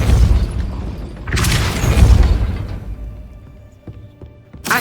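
In Hogwarts Legacy, the Depulso spell fires as a heavy, booming whoosh that swells twice and then fades. A faint clank follows, and a final thump lands at the end.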